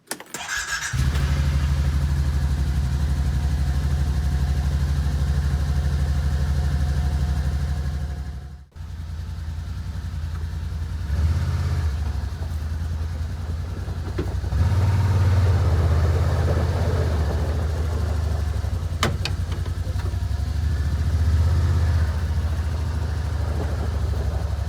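A Kawasaki Teryx-4 side-by-side engine starts and runs with a steady low throbbing idle, drops out briefly near the middle, then rises in loud revving surges, close to the microphone and with no talking.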